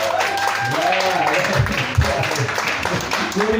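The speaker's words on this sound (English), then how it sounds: "Woody gets a big round of applause with him every time." Audience applause for Woody, a performer at a comedy roast, comes as a steady wash of clapping with voices talking and calling out over it.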